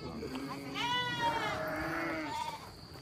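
Lambs bleating at a sheepfold, a long, wavering, nasal cry rising and falling over a couple of seconds, close and fairly loud.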